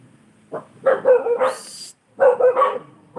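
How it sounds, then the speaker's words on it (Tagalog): A dog barks repeatedly on a rainy day: two clusters of loud, close, yappy barks separated by a short pause, with no talking over them. "Mute ko muna guys kasi yung aso na naman o natahol na naman"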